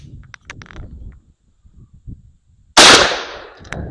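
A 28 gauge shotgun fires one round of Remington number 4 buckshot outdoors at a range, a single sharp, loud blast that rings off, preceded by quiet handling clicks and rustling.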